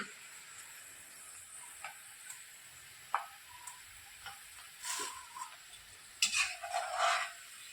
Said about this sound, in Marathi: त्यानंतर इथं मिरच्या बारीक कट करून घेतल्या आणि अशा त्या झाऱ्यावर तळून घ्यायच्या